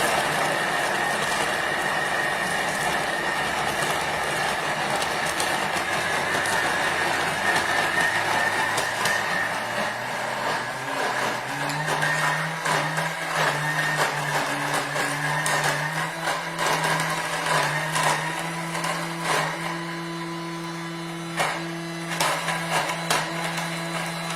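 Thermomix kitchen machine running at speed 8, a loud steady motor whir that rises in pitch as it spins up and then holds a high blending drone for about twenty seconds, close and alone.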